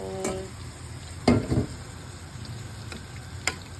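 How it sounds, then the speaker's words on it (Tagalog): Homemade sweet and sour sauce hitting a hot pan, a brief sizzling splash followed by quieter bubbling and a few light clicks of utensils, close and alone without talk. "Lagay ko na yung ginawa kong sauce."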